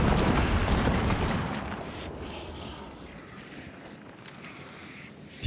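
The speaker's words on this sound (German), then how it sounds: "Da ist mal ein Schuss." A single loud gunshot boom in the video game Hunt: Showdown, with a long rumbling echo that decays over several seconds, followed by a sharp click or hit at the very end.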